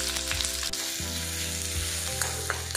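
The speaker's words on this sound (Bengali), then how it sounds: "পেঁয়াজটা নেড়ে চেড়ে ভেজে নিয়েছি" Thinly sliced medium onion frying in hot mustard oil, a steady loud sizzle broken by scraping stirs, with no voices.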